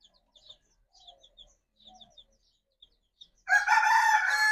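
Soft cooing and clucking from backyard chickens and pigeons, then a rooster bursts into a loud, close crow.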